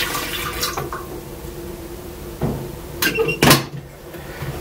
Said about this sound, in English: So take a water boiler and then fill it up.